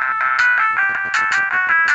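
A phone ringtone plays in a repeating electronic pattern, steady and fairly loud throughout, with no voices over it.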